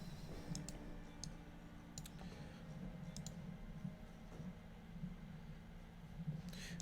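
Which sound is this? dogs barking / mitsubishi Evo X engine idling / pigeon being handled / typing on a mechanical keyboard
typing on a mechanical keyboard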